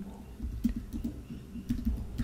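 Keys clatter on a computer keyboard while a Spring Boot Kafka consumer property is entered, a quiet, steady run of close, soft clicks with a low hum underneath.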